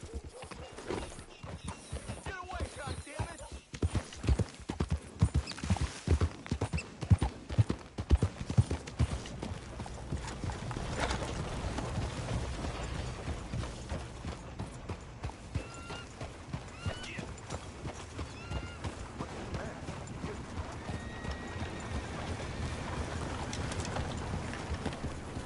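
Horse hooves clip-clopping in a steady trot in Red Dead Redemption 2, rhythmic and close, with occasional whinnies and creaking tack under game ambience.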